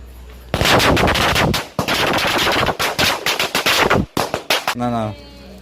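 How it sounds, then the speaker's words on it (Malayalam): A loud, rapid string of firecracker bangs crackles for several seconds during Vishu festival celebrations, then a few scattered pops and a brief voice as it dies down. "പടക്കം പൊട്ടിട്ടപ്പോ"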